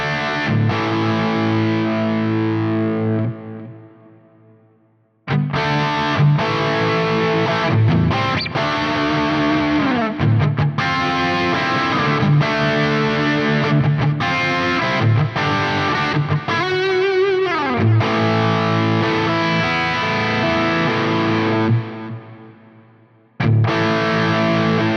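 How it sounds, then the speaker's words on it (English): Electric guitar through a Soldano amp plugin with a drive pedal added in front, loud saturated chords and riffs ringing with thick distortion, a brief pause near the start and a sudden cut-off toward the end. "If we go ahead and add in the drive pedal in front of that"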